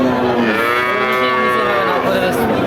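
A dairy cow with her calf at a Bangladeshi cattle market gives one long, loud, close moo that lasts the whole moment, with a faint crowd murmur behind it.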